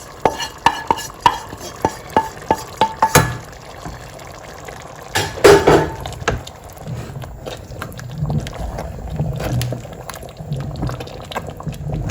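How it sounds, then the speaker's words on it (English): Minced meat and vegetables stirred in a pot for coconut vegetable jollof rice, with a run of sharp spoon taps against the pot rim, then a soft continuous sizzle and scraping stir. "I'm going to saute the vegetables."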